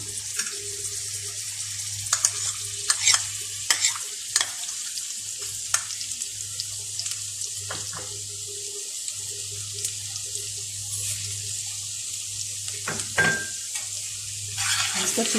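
Grated ingredients sizzle and fry in hot mustard oil on a stove over a high flame, a steady close crackling hiss running throughout with scattered sharper pops and stirring clicks.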